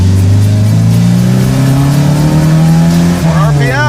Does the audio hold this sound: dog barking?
no